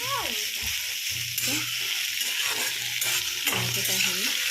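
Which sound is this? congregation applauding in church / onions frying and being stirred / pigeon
onions frying and being stirred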